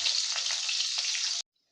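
Onion pieces frying in hot oil for a broad bean curry, a steady close sizzle and crackle for over a second that then cuts off abruptly.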